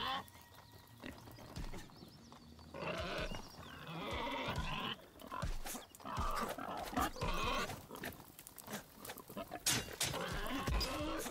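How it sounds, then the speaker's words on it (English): Pigs in the video game Nightingale squeal, grunt and snort in repeated loud, shrill bursts with thuds and game effects between them, filling the whole stretch alongside game noise. "God, you pigs are terrible."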